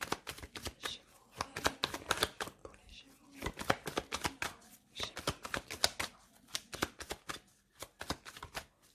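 Tarot cards are cut and shuffled in quick bursts of crisp, rapid clicking and riffling, close by and continuous with short pauses, with no voices.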